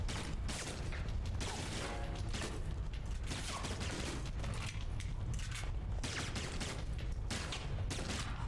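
Dense, continuous gunfire in the video game Alpha Protocol, with rapid overlapping shots and mechanical clatter sustained loudly throughout, with no talking.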